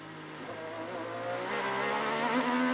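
An onboard IndyCar engine in the Carvana Honda winds up steadily, rising in pitch and loudness as it accelerates through traffic at the Detroit Grand Prix street race, with a faint rasp and no talk.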